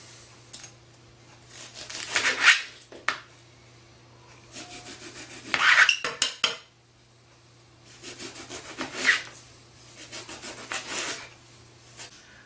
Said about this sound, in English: I've cut all our eggplant into slices